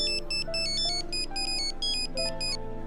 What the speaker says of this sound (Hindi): अनु को फोन है